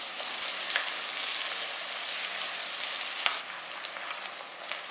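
Two slit green chillies sautéing in hot oil for a coconut-milk ghee rice, giving a steady close sizzle with small crackling pops throughout.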